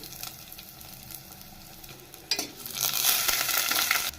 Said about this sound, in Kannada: ಜಜ್ಜಿದ ಬೆಳ್ಳುಳ್ಳಿ ಸೇರಿಸ್ತಾ ಇದ್ದೀನಿ